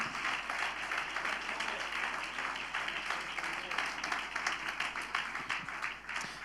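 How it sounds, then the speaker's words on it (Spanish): Sustained applause fills a church service, a dense, even wash of many hands clapping at moderate distance throughout, with a faint voice underneath. "Fuerte ese aplauso de alabanza al Señor."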